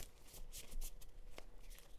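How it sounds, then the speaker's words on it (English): A deck of tarot cards is shuffled by hand in a quick, rustling flurry of riffling and slapping cards, close and fairly quiet, with no voices. "Then we are going to cut. Oh gosh, okay, and shuffle."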